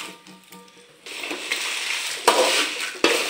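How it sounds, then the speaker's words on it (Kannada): Pre-fried chillies are tipped into coriander roasting in a pan for marriage-style sambar powder, giving a dry scraping and rustling stir that grows louder after a quiet start, with a few sharper clattering accents. "ಈಗ ನಾನು ಇದಕ್ಕೆ ಮೊದಲು ಫ್ರೈ ಮಾಡಿಟ್ಟ ಮೆಣಸನ್ನು ಹಾಕ್ತಾ ಇದ್ದೇನೆ."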